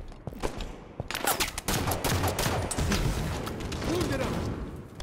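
Rapid bursts of automatic gunfire and explosions from a Halo 5: Guardians Breakout match crackle densely and continuously, with players' voices talking over the shooting throughout.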